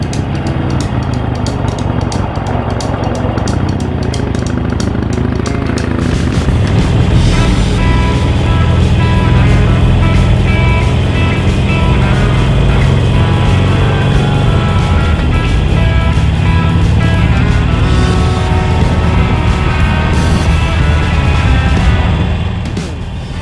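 Harley-Davidson Roadster XL1200CX motorcycle ridden on a cold January day, its engine running steadily with a broad rumble and rising revs midway, loud and continuous with wind, no talking.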